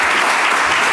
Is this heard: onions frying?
no